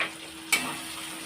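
Red chilli powder, salt and turmeric stirred into hot oil for a dhaba-style paneer masala make a steady soft sizzle, with a single sharp scrape of the spoon partway through.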